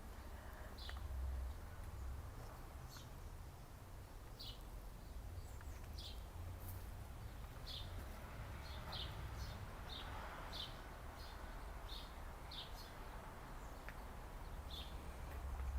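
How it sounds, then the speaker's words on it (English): Faint birdsong drifts in from a distance in a healing garden in Auckland, New Zealand: short, scattered chirps and tweets over a soft outdoor hush with a low rumble. "Let me be quiet for a minute so you can hear the birds"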